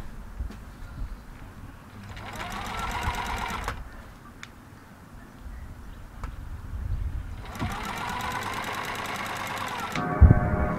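A sewing machine stitching the crotch seam of wrap pants, two steady runs of fast mechanical whirring and clatter with a quieter hum and handling noise between them, close up.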